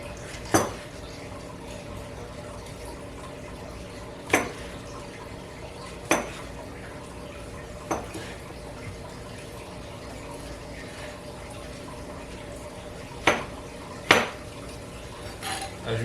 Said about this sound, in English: Let's rough chop this into like nice little pieces